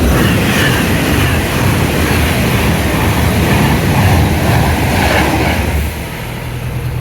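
A train crossing a railway bridge rumbles loudly and continuously nearby, a heavy rolling roar with rail clatter that eases slightly near the end.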